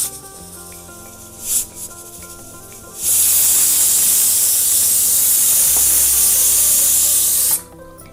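Ghee tempering with chilli powder poured over chicken kaju masala gravy erupts into a loud, hissing sizzle after a few quiet kitchen clatters, holding strong for several seconds before cutting off abruptly.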